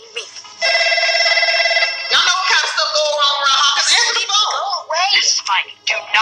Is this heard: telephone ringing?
yes